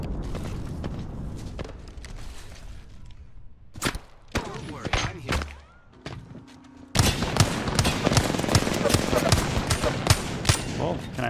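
Gunfire in Apex Legends: sporadic single shots and clanking mechanisms, then sustained rapid automatic bursts that grow loud and dense toward the end.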